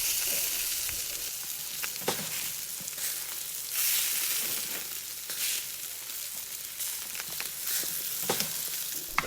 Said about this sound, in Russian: Просто быстро обжарю на растительном масле.